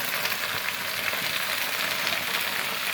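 Chopped onion sizzling in hot oil in a pan while cooking kolmi greens, a dense, steady frying hiss that stays loud and close for the whole stretch with no talking.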